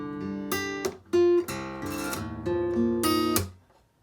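Acoustic guitar plays section 1 of a song slowly, a fingerpicked pattern of ringing notes and chords with percussive slap-mute accents, close and alone.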